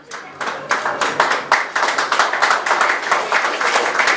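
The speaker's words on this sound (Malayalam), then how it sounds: "നല്ലൊരു കൈയടി കൊടുക്കാം" An audience at an award event claps in a rhythmic, fairly close burst after a film poster and title are officially released on stage, the clapping building and staying steady for several seconds.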